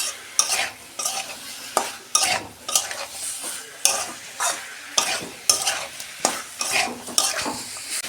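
Potatoes tipped into a pan of sautéed flat beans, cauliflower and tomato, a spoon scraping and stirring in repeated close strokes over a light sizzle, with clinks of metal against the pan and no talk.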